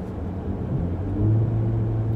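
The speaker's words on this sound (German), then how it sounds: "Dann kann ich quasi den Verbrennermotor einschalten" A 462 hp Porsche Panamera's combustion engine kicks in, a low rumbling hum that swells slightly louder partway through, heard from inside the car with no talking.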